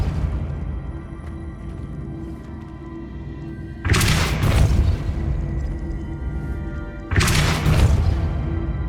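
Two loud whooshing blasts of the Depulso force spell in the Hogwarts Legacy video game, each a broad burst that rises suddenly over a low game hum and fades within about a second, spaced a few seconds apart.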